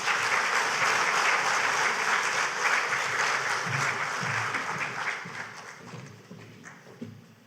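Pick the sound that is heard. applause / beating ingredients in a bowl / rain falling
applause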